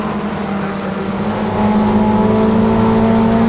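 Toyota MR2 championship race cars at Snetterton roar past together, a loud, close engine drone that swells and holds steady as the pack runs flat out.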